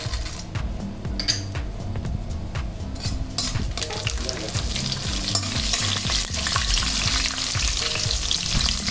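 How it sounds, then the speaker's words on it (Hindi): Mustard seeds with urad and chana dal crackling in hot oil for vegetable rava upma, a dense, loud sizzling and popping up close with occasional spoon clinks against the pan. "राई को थोड़ा सा मैं हल्का सा इसको तड़कना है"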